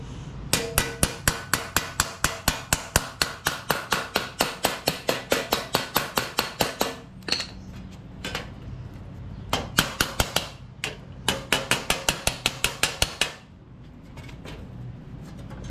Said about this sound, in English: you just need to make sure and hammer everything back straight before you mock it up